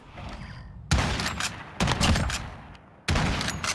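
Gunfire in Call of Duty Modern Warfare comes as three loud, close bursts of rapid shots, each lasting close to a second, separated by brief quieter gaps.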